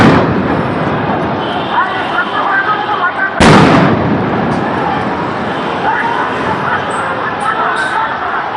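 Sound grenades explode at a street protest outside the Intercontinental Hotel in Dhaka, with one sharp, loud blast cutting through constant crowd noise and a reporter's voice talking throughout.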